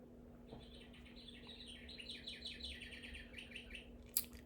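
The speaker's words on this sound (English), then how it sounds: "That's my bird clock." A bird clock plays recorded birdsong: a quiet run of rapid, repeated chirps and trills over a steady electrical hum, ending with a short sharp click.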